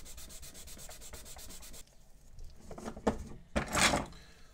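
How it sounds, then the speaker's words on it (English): Steady rhythmic rubbing strokes of sanding a 1/200 scale HMS Hood model part, then quieter scrapes and a few louder bursts of abrasive rubbing near the end, close up with no talk. "So after quite a lot of sanding,"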